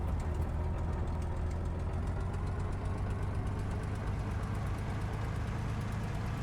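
A WWII fighter plane engine running in the flight sim Cliffs of Dover, a steady loud low drone with an even rumble throughout, no voices over it.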